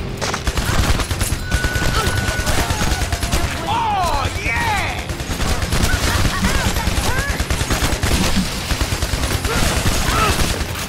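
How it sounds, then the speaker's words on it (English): Rapid submachine gun fire in Shadow Warrior 2, a loud, nearly nonstop rattle of shots running through the whole stretch, with a voice talking over it. "超级冲锋枪， 打半天。"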